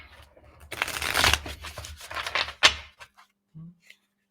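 Tarot cards being shuffled and riffled, a burst of papery flutters and slaps in the middle with a sharper snap near the end, fairly close and alone with no talking.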